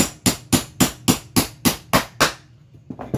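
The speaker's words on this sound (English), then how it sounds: "we need to tap in this bushing" Hammer tapping a bushing through plastic into a shop-built tube bending die made of metal plates: nine sharp, evenly spaced metallic strikes, loud and close, then a few fainter taps after a brief pause.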